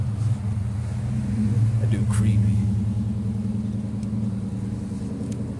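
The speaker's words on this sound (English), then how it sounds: "I'll let this car go by making all this noise." A car drives past on a neighborhood street with a loud, low rumbling engine that swells and fades, while someone talks briefly over the noise.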